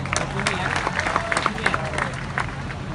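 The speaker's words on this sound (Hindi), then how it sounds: "एक बार आप सब लोग हमारे दोनों एंकर्स के लिए जोरदार तालियां बजा दें" Applause from the crowd at a college freshers' party poetry recitation, many hands clapping continuously at moderate loudness with background crowd murmur mixed in.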